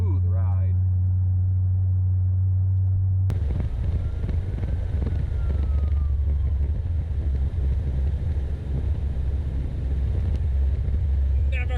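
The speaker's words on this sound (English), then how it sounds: "it's a little loud since the mufflers and exhaust have fallen off" A loud, rough 1984 Ford LTD Crown Victoria engine roars steadily, its mufflers and exhaust fallen off, a deep throaty rumble throughout, briefly idling before surging louder.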